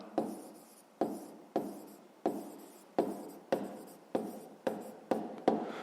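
Pen strokes scratch across paper while a fifth-grade math exercise is worked out, in about eleven distinct rhythmic bursts, each a sharp start fading quickly, close and fairly quiet with no talking.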